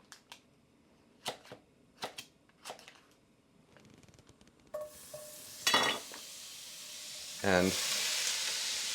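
A couple tablespoons of butter hits a pan over medium heat, breaking into a bright, rising sizzle after a few sharp clinks of utensils; a voice briefly speaks near the start.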